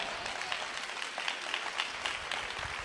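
A church congregation applauds during a sermon, a steady, close wash of many hands clapping together without pause.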